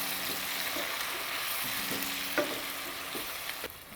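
Tomatoes fry with chorizo in a pan, giving a steady hiss of sizzling with occasional soft stirring clicks and pops, moderately quiet and with no talk.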